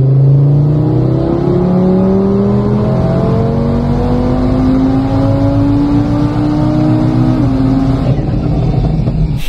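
An Audi TT RS with over 700 hp revs hard on a dyno. The loud engine climbs through repeated rising pulls, and each gear sweep is followed by a drop before the next climb.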